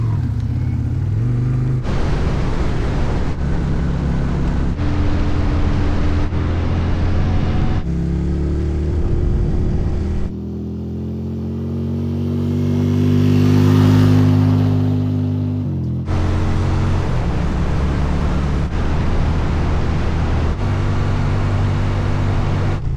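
A V-twin motorcycle engine revs and drones steadily while riding on an Alaskan road, close and loud, with gear changes breaking the note and a brief swelling rev in the middle, no talking.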